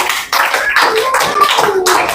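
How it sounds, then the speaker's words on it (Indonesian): A burst of hand clapping from a class group, dense and steady, with a brief gap near the start, then continuing applause. "tepuk tangan dulu untuk kelompok 1"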